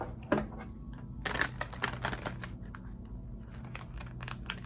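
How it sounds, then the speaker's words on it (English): Tarot cards being shuffled by hand: quick papery riffles and crisp crinkling bursts, close and fairly quiet, with a denser flurry of card noise in the middle and no talking. "Just going to shuffle real quick"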